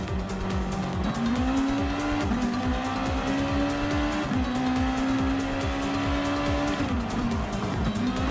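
Honda NSX Super GT race car in Gran Turismo Sport, its engine droning loud and steady with rising and falling revs as gears shift, joined by continuous tire squeal through the corners.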